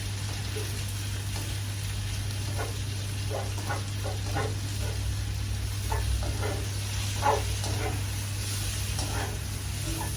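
Eggplant stir-frying in a pan gives a steady close sizzle, with scattered soft scrapes and clicks from chopsticks being moved through it, over a constant low electrical hum, with no talking.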